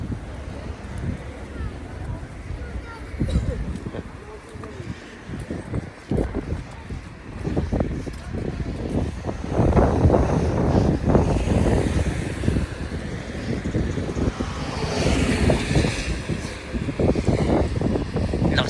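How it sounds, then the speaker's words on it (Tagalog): Strong wind buffets the microphone in loud, continuous gusts, with rush-hour traffic, a bus and scattered voices mixed in the background. "lakas ng hangin eh"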